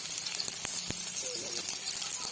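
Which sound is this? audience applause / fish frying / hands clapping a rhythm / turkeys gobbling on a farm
fish frying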